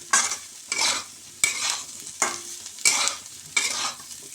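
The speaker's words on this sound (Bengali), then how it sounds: "1/2 চামচ কাশ্মীরি লঙ্কা গুঁড়ো দিয়ে ভালো করে একটু নেড়ে চেড়ে নেব আরেকবার।" A spoon stirs fried cauliflower with turmeric and Kashmiri chili powder in a hot pan, giving about seven distinct scraping, sizzling strokes in an even rhythm. The sound is close and clear, with no talking.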